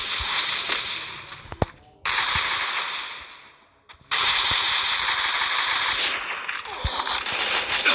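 Bursts of Counter-Strike gunfire in three loud, dense stretches, broken by brief near-silent gaps and a couple of sharp single cracks.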